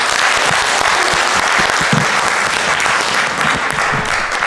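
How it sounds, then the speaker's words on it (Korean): Audience applause following a speaker's testimony at a lecture event, loud and sustained dense clapping from a large crowd filling the whole stretch without pause. "다시 한번 큰 박수 부탁드리겠습니다"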